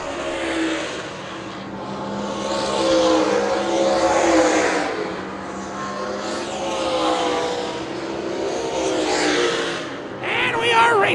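Race cars roar around an oval track, engines droning loud and steady with rising and falling passes, while a commentator talks over the noise.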